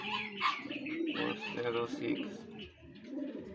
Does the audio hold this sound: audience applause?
no